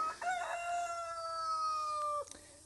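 A single rooster crows nearby, a long, loud, drawn-out call lasting over two seconds, then a brief cluck.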